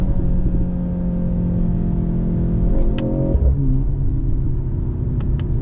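A 2023 Mercedes C63 AMG engine drones loudly and steadily from inside the car during a night drive, a low rumbling note with a brief rise in revs partway through and no one talking.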